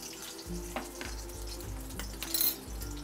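Two spoonfuls of homemade ghee, solidified from the fridge, melt into a hot pan over a low flame for Maharashtrian nachni ladoo, giving a steady close sizzle with soft periodic low thumps and scrapes.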